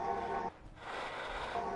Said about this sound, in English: That's the sound of space.